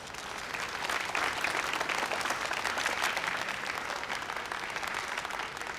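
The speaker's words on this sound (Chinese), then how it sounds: "大家请用最热烈的掌声感谢" Sustained applause from an audience at an awards party for content creators and sponsors, a steady wash of clapping that swells slightly and holds at an even, fairly loud level throughout.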